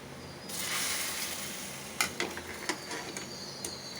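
Food sizzling in a pan on a home stove, a steady crackling hiss with a few sharper pops and ticks, close and fairly quiet, with no talking.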